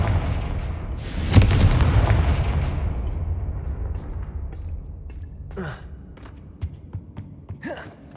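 A Confringo blasting spell goes off in Hogwarts Legacy with a loud, booming burst about a second in, then a long rumbling decay, followed by a few quieter magical whooshes and impacts near the end.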